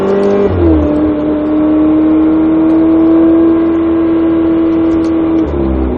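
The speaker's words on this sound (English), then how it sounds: "Roll it on out. Red 488 for 8 laps." A red Ferrari 488 GTB idles and pulls out onto a track, a loud steady engine drone close by with a brief rise in pitch as it moves off, then settling back.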